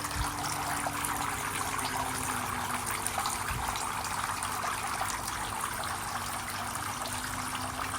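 Steady rushing and trickling water runs continuously with no pauses as water is poured from a container into a stingray aquarium tank nearby, with a low hum underneath.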